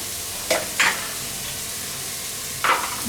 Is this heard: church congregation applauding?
no